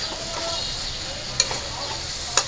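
Meat and spices sauté in a pan with a steady close sizzle, while a spoon stirs and scrapes through them and gives two sharp clinks against the pan.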